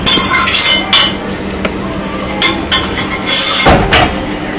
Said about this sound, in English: I just want to mix this into our boiled sweet potatoes